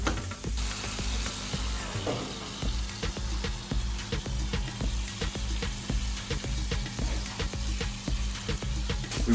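Eggs sizzling in a frying pan while a full English breakfast is cooked, a steady close crackle with regular scraping and tapping of a utensil stirring and moving them.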